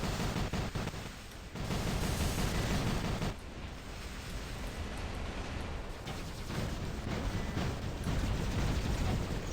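Rocket explosions and heavy weapon fire in the mech combat game War Robots, with a dense, continuous rumble of blasts and impacts and several louder bursts spread throughout.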